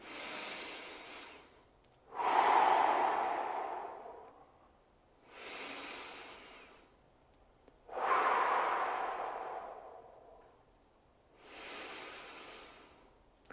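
Slow, deep breaths taken during a neck stretch, with two long inhales and two long exhales alternating close to the mic, each a soft airy rush lasting a couple of seconds, with quiet pauses between.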